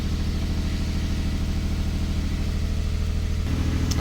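A 1-liter 3-cylinder car engine idles steadily nearby, a low even rumble with no voices, shifting slightly in tone near the end.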